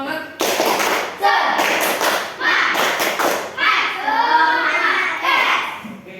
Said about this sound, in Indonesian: Yuk sekali lagi yuk, tepuk semangat.